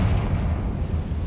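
The Confringo spell bursts in a deep, rumbling explosion in the video game Hogwarts Legacy, a dense low boom that fills a little over a second without any voices.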